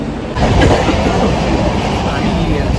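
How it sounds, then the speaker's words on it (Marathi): Sinhagad Express passenger train running from Mumbai to Pune, a steady loud rumble of wheels and carriage with rhythmic clatter on the rails, constant throughout and heard from inside the coach. "सिंहगडच्या ट्रेनमध्ये बसलेलो आहे आणि आता आम्ही चाललो आहे पुण्याला"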